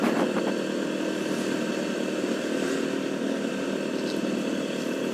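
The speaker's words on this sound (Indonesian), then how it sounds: "ini saya pakai motor PCX 150 cc tahun 2019" A 2019 Honda PCX 150 cc scooter ridden along a road on Madura toward the Suramadu bridge gives a steady engine drone blended with constant wind rush, loud and unbroken.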